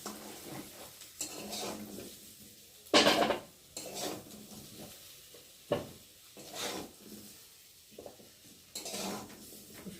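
Fried papaya and potato pieces are stirred and lifted out of a pan, repeated scraping and clattering strokes of a utensil against the metal over a faint sizzle of oil.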